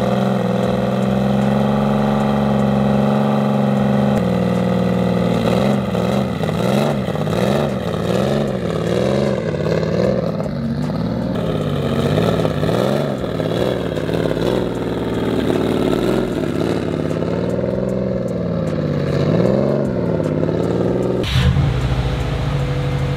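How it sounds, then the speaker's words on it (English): A Subaru STI race car engine with 130K miles, freshly resealed, revs loudly and steadily up and down close by, with no talk over it. "So let me move the race car real quick."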